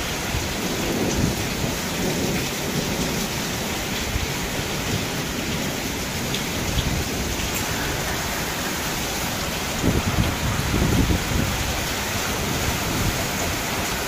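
Heavy rain pours steadily onto a roof in a dense, loud hiss, with low rumbles of thunder rolling in now and then, including a stronger burst near the end.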